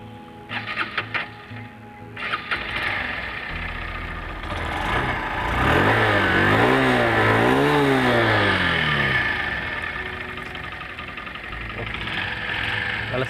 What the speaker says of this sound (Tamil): வந்துட்டு அவுட்புட் எக்ஸாஸ்ட் நோட கேட்டுக்கலாம் ஸ்டார்ட் பண்ணும்போது